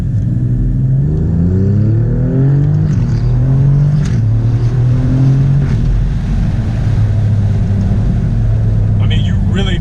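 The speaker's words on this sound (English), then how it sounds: "I'm sure you guys can hear those blips from downshifting quite well" An Alfa Romeo Giulia Quadrifoglio with a twin-turbo engine, heard from inside with the window down, drones loudly, its engine note rising and falling through gear changes with sharp throttle blips on downshifts, under road and wind noise.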